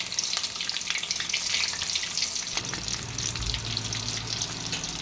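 Battered green chillies (mirchi bajji) deep-frying in hot oil: a dense, continuous crackling sizzle that holds steady, with a slight low bubbling rumble joining partway through and no talk.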